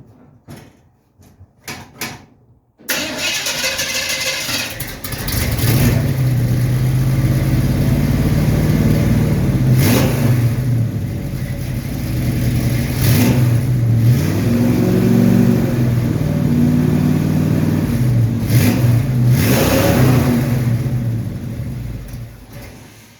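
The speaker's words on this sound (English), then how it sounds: "open headers is always going to be loud." A 1937 Dodge car engine with open headers barks to life and revs hard repeatedly, loud and raspy, rising and falling in sharp bursts close by.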